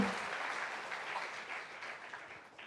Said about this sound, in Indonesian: kita berikan aplaus dulu untuk Mbak Popi